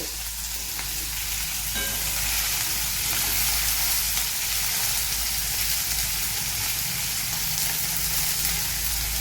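Sliced bitter gourd sautés in a hot pan, a steady loud sizzle with occasional stirring scrapes running continuously without talk.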